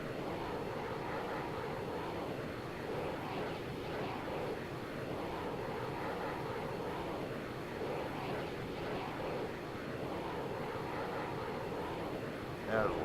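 A jet takes off in the game ARMA 3 with a loud, steady engine roar and rushing wind that holds without a break, while a voice talks underneath.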